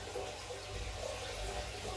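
Aquarium water for cichlids drains through a hose in a continuous, steady rushing wash that stays even and fairly loud throughout, with no talking.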